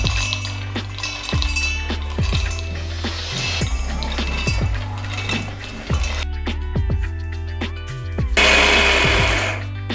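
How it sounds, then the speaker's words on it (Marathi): Electric mixer grinder pulverising roasted, cooled peanuts into a coarse powder, a loud close motor whir cut into repeated short pulses with rattling and clinking of nuts in the jar, ending in a harsher high grind. "तर मिक्सरला त्याचा कूट तयार करून घेऊया"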